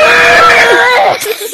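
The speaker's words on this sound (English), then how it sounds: "do the screaming thing" A person screaming on request during a game session, one loud sustained high-pitched shriek that wavers and tails off after about a second.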